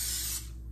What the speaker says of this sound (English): Now I'm using some olive oil cooking spray.